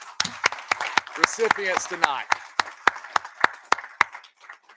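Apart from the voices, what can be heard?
audience applause at school board meeting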